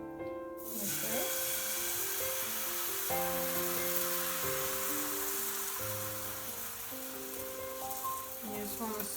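Crepe batter ladled into a hot pan gives a steady, soft frying hiss that runs the whole time beneath louder background music.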